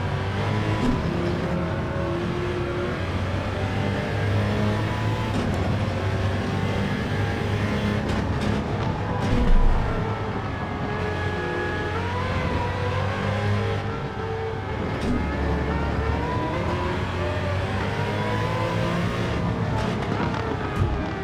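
A Porsche race car engine howls continuously through the gears at the Spa circuit in a racing game, with steady rising and falling revs, loud and close, and faint tyre and track noise beneath.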